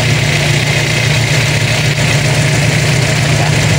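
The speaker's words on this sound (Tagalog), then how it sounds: "So yan, sa tunog naman ng makina, 800 RPM nga." A car engine idles at 800 RPM with a loud, even, low rumble and a steady throb that holds constant throughout, with no voices.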